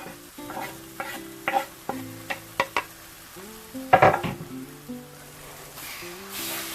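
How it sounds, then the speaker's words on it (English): Egg bhurji being stirred as it fries in a pan, with a steady sizzle under a string of distinct scraping and tapping strokes from the spatula, close and fairly loud, no voices. "Now stir it continuously until our eggs get cooked."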